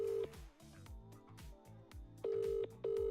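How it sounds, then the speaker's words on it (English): Telephone call being placed: bursts of dial tones and ringing tones recur across the clip, steady electronic beeps with short gaps, loud and clear with no talking over them. "Hopefully Steve are on the phone"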